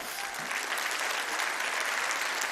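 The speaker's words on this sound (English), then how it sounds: "Please, a round of applause for them as well." Steady applause from a crowd at an awards gala, dense clapping that holds at an even level throughout without pause.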